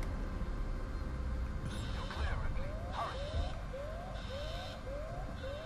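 Repeating alarm siren in the sci-fi survival game Alien: Isolation, a series of rising whoop tones about every half second over a low ambient rumble, with scattered game sounds.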